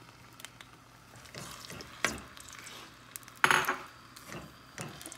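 Ground onion paste fries in hot oil in a pan for a green masala chicken, with a soft sizzle underneath and several sharp, irregular scrapes and clinks of a spoon stirring against the metal, close and fairly quiet.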